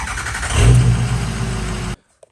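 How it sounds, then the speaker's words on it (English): A Ford 6.0 Powerstroke diesel truck engine with a hot no-start fault fires up and runs loud and close with a rough rising rev, then cuts off abruptly into near silence. "now it wants to fire back up now that I've got it"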